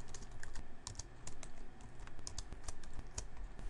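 Quiet, steady typing on a computer keyboard, a rapid run of light clicking keystrokes close by, with no voices.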